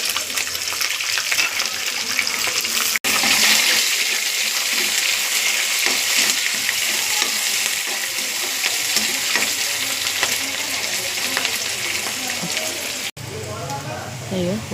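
Onions and green chillies fry in a pan with a loud, continuous sizzle and the scrape of stirring, broken by two brief pauses, while a voice talks in the background.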